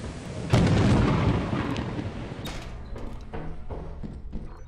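Thunder from a storm on the stormy moon Titan in the video game Lethal Company: a loud sudden crack that rolls into a long, fading rumble, followed by softer scattered thumps.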